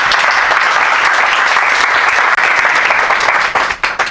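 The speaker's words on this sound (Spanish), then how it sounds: "por favor pido un aplauso para Ángel" Loud applause from a lecture audience welcoming a speaker, a thick, sustained roar of clapping close by that stays full throughout before thinning into a few scattered claps at the very end.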